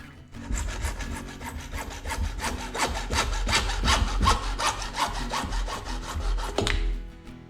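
A hand saw cuts through an electrical pipe bend during bicycle pedal servicing, making about twenty quick, even back-and-forth rasping strokes up close that stop abruptly near the end.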